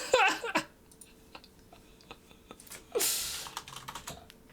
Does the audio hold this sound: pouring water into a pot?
no